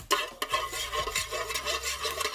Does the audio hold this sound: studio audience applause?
no